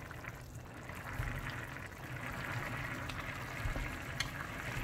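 Water poured into a pot of cooking rice for Ghanaian rice balls, a soft continuous splashing trickle that rises slightly in strength partway through, fairly quiet and alone.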